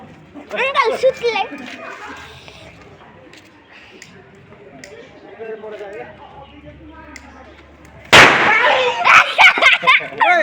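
A firecracker bursts with one sharp, loud bang during the Tihar festival, followed by crackling. Children chatter and laugh before the blast and keep talking after it.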